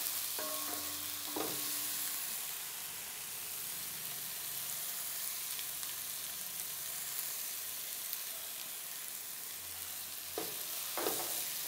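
Curry leaves and ginger garlic paste fry in a pan with a steady hiss, while a spoon knocks against the pan a couple of times near the start and end. The sound is close and fairly quiet, with no talking.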